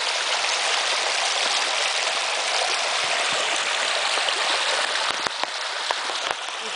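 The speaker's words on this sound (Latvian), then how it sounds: "Un šitā līst Kvīnslendā." Heavy rain pours down in Brisbane, Queensland, with runoff water rushing across the ground, a dense and constant close hiss with a few louder drips and splashes near the end.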